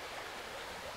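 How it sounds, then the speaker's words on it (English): A small creek trickling and flowing steadily, a continuous soft watery rush with no voices. "Quite a nice little creek, got a little"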